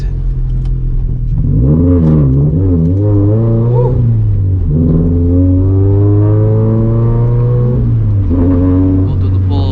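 A turbocharged Scion FR-S engine drones from inside the car while driving gently around the block, a low steady hum rising and falling in pitch through gear changes, with someone talking over it.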